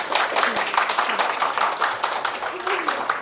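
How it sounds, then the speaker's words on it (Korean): An audience at a Daejeon public science lecture claps to welcome the speaker, a dense patter of many hands at moderate volume with a voice speaking over part of it. "박수로 맞이해주세요."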